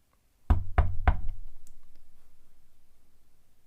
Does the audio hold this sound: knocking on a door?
yes